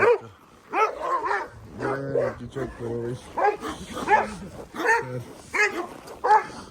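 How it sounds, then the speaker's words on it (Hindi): Several large dogs barking repeatedly in short, sharp bursts with yips and whimpers mixed in, close by and loud, while someone talks between and over the barks. "ये कुत्ते जो है भौंकते रहेंगे।"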